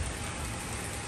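Heavy rain pours over Georgetown, Guyana as a steady, even hiss of moderate loudness with no breaks and no voices.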